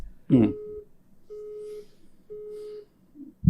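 A telephone call hits a busy signal: steady tones repeat in evenly spaced pulses with gaps between, and brief voice sounds at the start and end.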